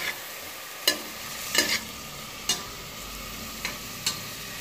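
Onions frying in a cooking pot, with a steady soft sizzle and several sharp stirring scrapes at irregular intervals, fairly quiet and with no talking.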